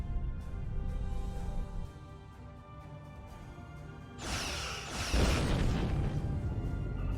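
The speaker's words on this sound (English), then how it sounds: "Target that ship and fire all weapons." Starship weapons in Star Trek Online fire on the Undine planet killer with a heavy booming blast that swells suddenly and rumbles on over a low steady hum.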